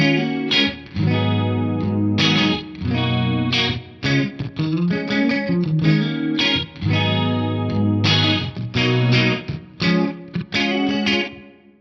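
A guitar plays through a pitch detune effect set to +13 and -11, giving a thick, chorus-like doubled tone over a loud, steady run of chords and notes with no talking.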